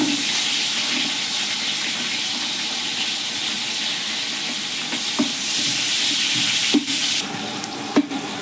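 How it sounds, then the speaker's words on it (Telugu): Chopped onion frying in a pan with oil, a steady broad sizzle hissing close and continuous, with a few soft clinks and stirring knocks near the end and no talking. "నెక్స్ట్ ఉల్లిపాయ వేసుకోవాలండి."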